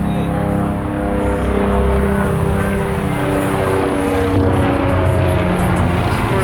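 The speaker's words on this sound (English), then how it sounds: "We always got the helicopter crap overhead." A loud, steady rotor drone of a helicopter passing overhead dominates, with faint talk beneath it.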